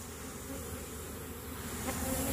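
Honeybees swarming into a new colony make a dense, continuous buzzing hum, moderately loud and close, holding steady for a couple of seconds with no voices.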